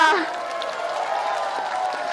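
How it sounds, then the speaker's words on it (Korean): A crowd at an outdoor presidential campaign rally in Mokpo applauds in a steady, dense wash of clapping, with a voice speaking over it at the very start. "큰 박수로 응원해 주시기 바랍니다"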